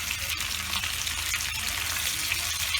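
Rava-coated bangda fish fries in a pan over a medium gas flame, giving a steady, close, dense sizzle with faint crackles throughout and no talking.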